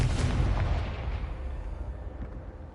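A single booming fire-spell explosion in the video game Hogwarts Legacy, starting with a heavy low blast that rumbles and fades over a few seconds.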